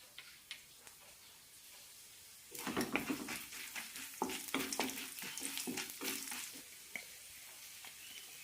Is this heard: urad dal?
yes